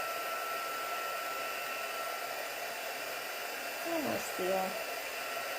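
A heat tool blows a steady, even rush of hot air for heat-setting colouring, continuing under a brief spoken remark near the end.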